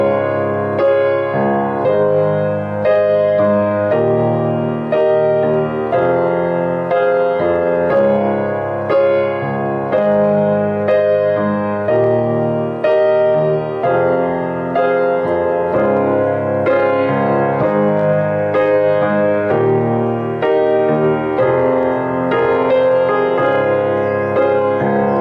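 Solo piano playing the final chorus of a song, steady rhythmic chords under a bright repeating melody, close and evenly loud throughout with no talking.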